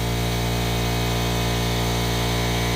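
An air compressor runs in a garage during intake manifold work on a car, a loud, dense, unbroken drone with a steady hum that fills the whole stretch with no pauses.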